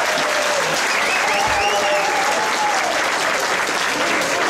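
Audience applause fills a Vigon evening show in Herblay in 2015, a steady dense wash of clapping that stays loud and continuous throughout, with a faint murmur of the crowd underneath.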